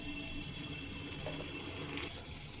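Hot water pours steadily into a pot of cooking mutton kasha curry, a continuous rushing splash lasting the whole moment, close and even in level with no voices.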